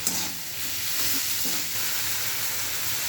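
Food frying in a pan for an egg and paneer dish, stirred after salt and sugar go in: a steady, loud, close sizzle with soft scraping underneath throughout.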